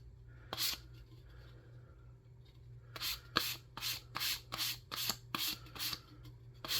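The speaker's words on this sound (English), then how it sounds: "Yeah, it's sanding way better now." Sandpaper rubbed on the body of an Estes Hi-Flier XL model rocket: one early stroke, then a quick regular run of about a dozen close, scratchy back-and-forth strokes, with no talking.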